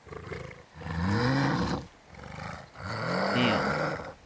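A wolf in the video game Ghost of Yōtei gives two long, deep growling roars, close and fairly loud, with a short gap between them and no talk over them.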